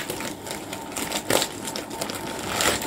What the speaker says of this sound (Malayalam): ഇതിൻ്റെ പേപ്പർ കവർ, പ്ലാസ്റ്റിക് കവറൊക്കെ വെച്ചിട്ട് അപ്പോൾ നമുക്കതൊന്ന് പൊട്ടിച്ച് നോക്കാം.